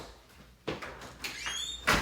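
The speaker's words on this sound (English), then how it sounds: "Let me close the door." Inside a Minecraft city, a wooden door shuts with a quick, hollow clack, followed by a couple more faint knocks and shuffles, all fairly quiet.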